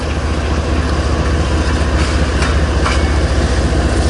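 Rear pushing locomotives of a long eastbound freight train rumble past at Lincoln, Nebraska, a loud, continuous heavy engine drone with rolling rail noise and faint rhythmic clicks, close by and unbroken throughout.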